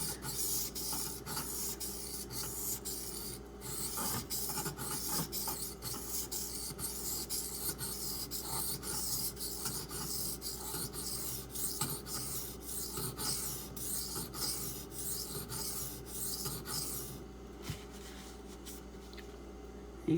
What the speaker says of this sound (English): You gotta kind of be careful with this stone because it cuts so much quicker than you think a 400 grit will.